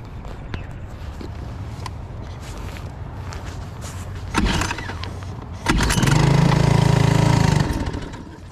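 A small boat outboard motor is cranked on a cold morning: a few light knocks and pulls, then a rough sputter, and finally a loud close engine catching and running for a couple of seconds before easing off.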